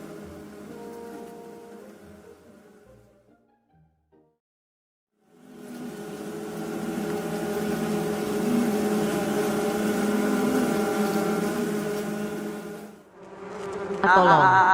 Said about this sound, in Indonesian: Tolong saya, banyak lebah nih.